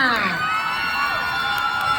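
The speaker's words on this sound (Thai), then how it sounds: "เสียงปรบมือและเสียงกรี๊ดดังๆ ให้กับคุณเบลล่าด้วยค่ะ" A crowd cheers, whoops and screams for Bella, a Thai celebrity, at a public appearance, the sustained loud shrieking filling the scene throughout.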